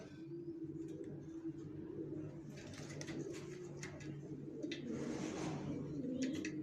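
Racer pigeons coo softly in a steady, low, rolling burble, with faint chirps and rustles around them and a few soft clicks.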